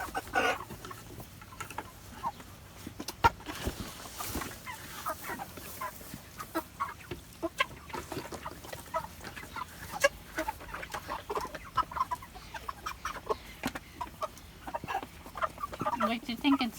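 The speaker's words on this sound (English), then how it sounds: "we raised another batch of Cornish cross chickens" Cornish Cross chickens cluck and murmur softly on a homestead. The calls are faint and scattered over a quiet background, with a few sharper squawks mixed in.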